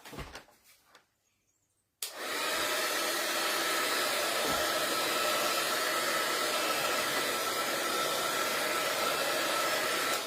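A hair dryer blows to dry paint on a garden boot craft made with a masking technique; after a few quiet knocks it switches on abruptly and roars in a steady, loud, close whoosh.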